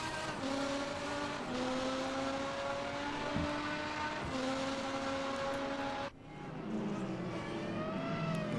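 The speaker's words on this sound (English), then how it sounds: "This car, you can hear for a mile away." A loud race car engine revs hard and close, its pitch climbing and dropping through repeated gear changes before cutting sharply and then picking back up.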